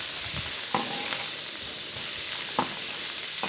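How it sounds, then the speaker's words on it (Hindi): Potato and cauliflower being stirred in a pan with green coriander and green garlic, giving a continuous low sizzle with a few soft scrapes and knocks of the spoon and no talking. "इसको पूरा मिक्स करें ताकि हमारे जो ये हरी धनिया एंड हरी लहसुन जो है वो भी इसी के साथ पक जाएं।"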